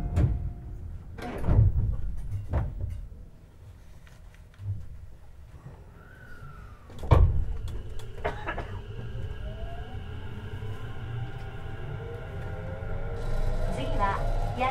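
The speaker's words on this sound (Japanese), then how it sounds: "2番線、ドアが閉まります。" Tobu 50090 series commuter train doors on the Tobu Tojo Line sliding shut with a firm thump, followed by soft tones and mechanical hum inside the car, with a low rumbling background throughout.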